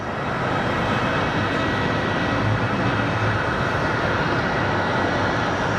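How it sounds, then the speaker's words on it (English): A Horizon Embraer airliner comes in to land at Sky Harbor International Airport, its engines giving a loud, steady roar that fills the whole stretch with no break. "here we have a Horizon Embraer coming in"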